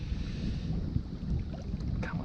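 On a cold, windy day outdoors during a fishing trip, gusting wind buffets the microphone with a low, uneven rumble and roar that continues throughout.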